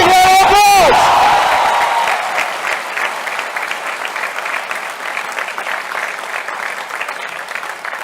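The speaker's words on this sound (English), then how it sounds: "So I think you should give a big round of applause." An audience applauds at a talk by Google's CEO, opening with a sharp whistle and whoop over loud clapping that settles into steady applause and fades slightly.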